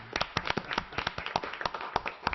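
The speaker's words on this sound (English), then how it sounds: "Deserves a round of applause." A small audience at a city council meeting clapping for a round of applause, sparse, uneven hand claps fairly close and quiet, lasting a couple of seconds.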